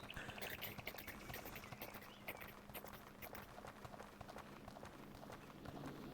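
Heavy avatar footsteps in a Neos VR world, a quick irregular clip-clop like trotting hooves, steady and moderately close across the whole stretch.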